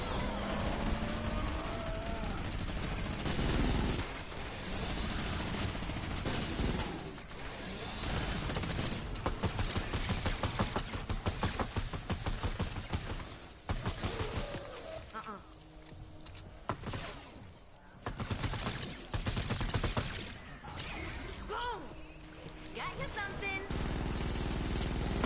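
Rapid bursts of gunfire from shooting enemies in Fortnite Save the World dominate, a dense continuous rattle of game weapons and effects under players' voices talking over it.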